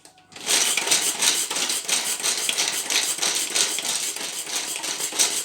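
Steady, dense crunching and grinding, close and continuous, like hard ingredients being crushed by hand, with no voices.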